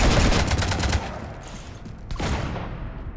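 Rapid bursts of gunfire in the video game Mass Effect 3 Legendary Edition, a loud close volley at the start, then quieter shots and a second burst, with no talk.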